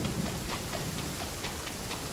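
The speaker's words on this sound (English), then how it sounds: "It's raining." Steady rain in the video game Genshin Impact, an even hiss of drops close by, continuous and unbroken with no voices.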